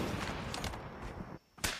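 Rapid bursts of gunfire from the video game Call of Duty during a dual tournament match, dense and continuous, with a brief drop-out and a sharp loud shot near the end.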